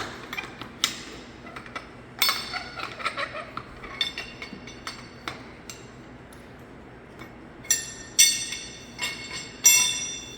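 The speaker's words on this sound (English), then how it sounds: "You're going to get it snugged up with spanner wrenches." Metal spanner wrenches tighten fire hose couplings during a hose test, giving scattered sharp metallic clinks and knocks, some in quick clusters, over a quiet background with no talk.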